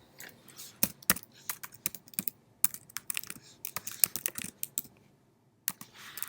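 Rapid, uneven keystrokes clatter on a computer keyboard, close and crisp, with short pauses between bursts of typing.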